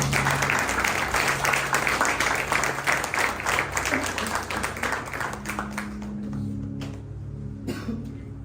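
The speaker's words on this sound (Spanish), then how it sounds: "Dale un aplauso al Rey de Reyes" A church congregation claps loudly and steadily, and the applause fades out over the last few seconds, leaving sustained keyboard tones underneath.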